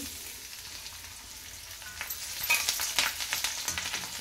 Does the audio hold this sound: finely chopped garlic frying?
yes